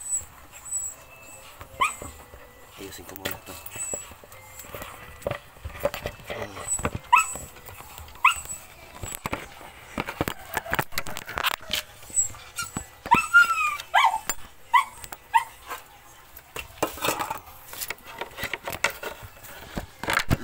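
Pet dogs whimper, yip and bark in short, irregular bursts around the room, mixed with handling noises while someone talks in Filipino throughout.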